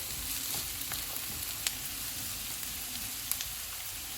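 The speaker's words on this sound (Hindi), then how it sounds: "इसको भी 1 मिनट तक फ्राई करेंगे।" Diced potatoes and capsicum frying in a pan over medium heat, a steady close sizzle with a few sharp crackles, no voices.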